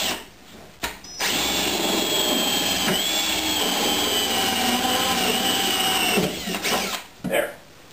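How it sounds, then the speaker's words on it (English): A power drill bores a hole through plastic while setting up a hydroelectric Pelton wheel turbine, giving a loud, steady whine for about five seconds that starts and stops abruptly, with a brief spin-up burst at the end. "So, I'm going to drill a hole right here,"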